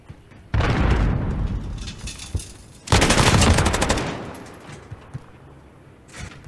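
Two loud bursts of automatic gunfire from a competitive video game match, each lasting about two seconds with a rapid rattling rhythm, separated by quieter gaps and a few single distant shots.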